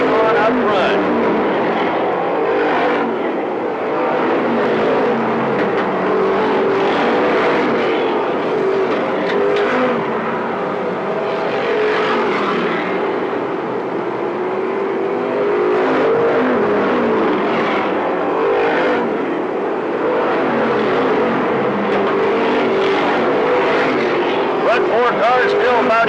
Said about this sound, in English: cars still about evenly spaced out as they come out of turn 4 this time to complete lap 38